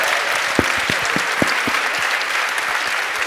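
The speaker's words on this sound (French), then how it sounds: "je pense que vous pouvez vous applaudir" A conference audience breaks into applause at the end of a French talk on epigenetics, a dense, loud, sustained clapping from a full room with a few sharper individual claps standing out.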